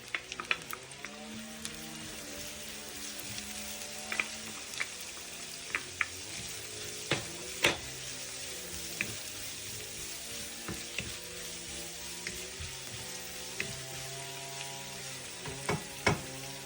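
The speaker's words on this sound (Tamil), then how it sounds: "இறால் நல்லா பொரிஞ்சு வந்துருக்குது" Prawns fry with onions in a hot pan, a dense, continuous crackling sizzle with scattered sharp pops and occasional light spoon taps, close up and steady throughout.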